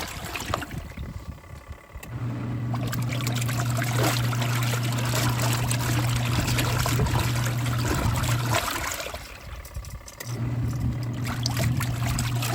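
A Rovsun portable washing machine full of sudsy water runs with a steady motor drone and churning, sloshing water, pausing briefly before starting again, with no talk.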